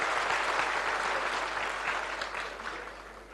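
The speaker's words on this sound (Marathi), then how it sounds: "मी आपणा सगळ्यांना विनंती करेल की जोरदार टाळ्या वाजवून आपल्या देवेंद्र करावं." An audience at a political gathering in Nagpur applauds to welcome Devendra Fadnavis, producing dense, sustained clapping throughout that gradually fades toward the end.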